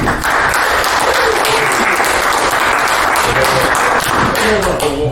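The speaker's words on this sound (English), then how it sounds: "maybe a little round of applause for Brian for organising" A room of business networking attendees claps loudly and steadily for several seconds, a dense even roar of hands with voices mixed in.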